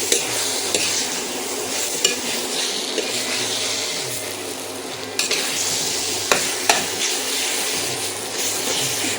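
Vegetables frying in oil with spices and asafoetida, stirred steadily in a pan at close range, with continuous sizzle broken by several sharp clinks of the spoon against the pot.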